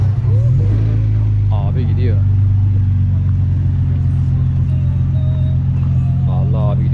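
A classic car rumbles past in a park in Curitiba, a loud low engine drone holding steady through the whole stretch, with people chatting over it.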